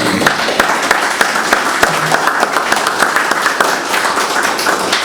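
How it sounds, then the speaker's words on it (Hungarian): An audience at a regional sports event in Erdővidék claps steadily and densely, a loud, even wash of many hands close by that fills the whole stretch without pause. "Még meg is tapsolhatjuk szerintem."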